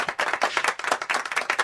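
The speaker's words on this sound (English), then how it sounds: "applause." Audience applause fills the room, a dense, steady patter of many hands clapping close by with no voices over it.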